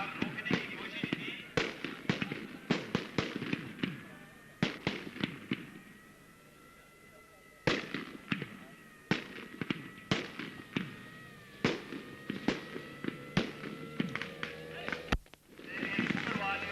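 Rapid bursts of police gunfire during a drill, many sharp cracks in irregular volleys with brief pauses, loud and echoing outdoors, with a voice speaking over parts of it.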